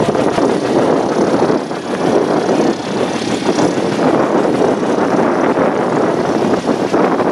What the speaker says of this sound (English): they're trying to warm the engines up